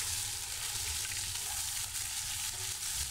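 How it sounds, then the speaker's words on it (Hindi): Ginger garlic paste browns in a pan, giving a constant, even sizzle and crackle with no voices. "जिंजर गार्लिक का पेस्ट है, ये देखें, ये मैंने डाला इसमें। अब इसको भी ब्राउन करूँगी मैं।"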